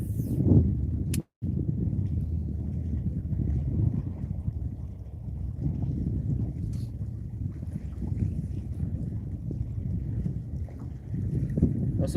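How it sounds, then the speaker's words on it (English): A big crew boat runs across a bay, its engine a steady low rumble that holds for the whole stretch, mixed with wind buffeting the microphone and a brief dropout early on. "big crew boat running across the bay"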